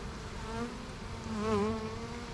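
Honey bees buzz in a continuous, droning hum around a beehive, close and steady, with the pitch wavering slightly as individual bees fly near.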